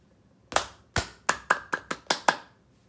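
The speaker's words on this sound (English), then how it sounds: "You can have them clap for every time the ball bounces." Seven or eight sharp hand claps ring out one at a time in an uneven rhythm in a quiet room, counting the bounces of a ball during a children's math activity.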